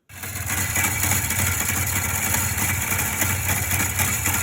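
An Izh Jupiter motorcycle engine fitted with a new chain tensioner fires up and runs steadily close by, a continuous rough mid-pitched idle rattle with no talking.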